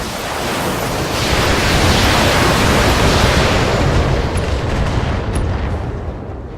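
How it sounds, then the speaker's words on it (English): Long-range missiles fire in a BattleTech game, a dense roaring wash of rocket noise that swells and holds for several seconds with no talking. "Now Maverick is going to fire his LRMs."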